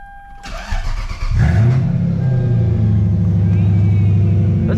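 A Lexus LS430 with lowered suspension cranks and fires up, the starter whir giving way to a loud, throaty idle that settles into a steady rumble; someone speaks briefly before the engine catches.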